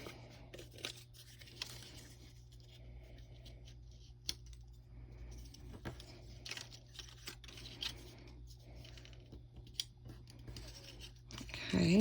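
Quiet close scissor snips cut through folded paper during a kaleidoscope star craft, a few scattered crisp cuts and rustles over a steady low hum.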